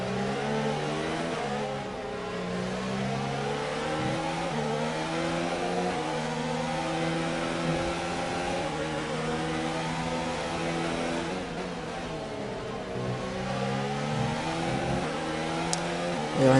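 Formula 1 cars race and overtake in a video game of the Australian Grand Prix, a continuous layered engine whine that rises and falls as several cars rev past, loud and steady.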